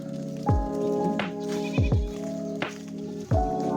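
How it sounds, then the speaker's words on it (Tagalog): Goats bleating outdoors, several short wavering calls spaced across the stretch at close range, some overlapping, with no talk. "Ay, may nakita ko kaming kambing."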